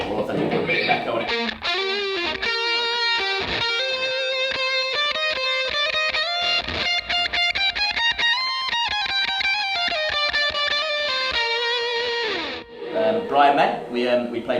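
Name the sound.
echo effect on electric guitar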